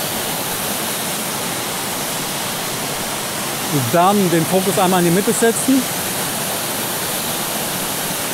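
Edelfrauengrab waterfall roaring as a steady broadband rush throughout, with someone speaking briefly over it midway.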